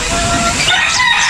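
A rooster crows once, loud and close, a drawn-out cry rising then trailing off in a setting where chickens are kept for sale.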